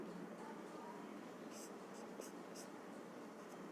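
Marker writing on a board during a chemistry lecture on isomerism: faint, quiet scratchy strokes come in a few short bursts under a low, steady room hiss, with no clear voice.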